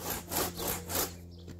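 A handsaw cutting wood in quick back-and-forth strokes, four rasping pulls close up, then it stops.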